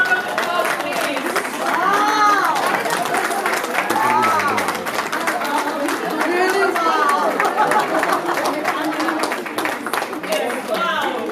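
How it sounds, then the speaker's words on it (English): A crowd at a women's award ceremony applauds and cheers loudly for an honoree, the clapping mixed throughout with excited voices, whoops and chatter. "Huge round of applause, please."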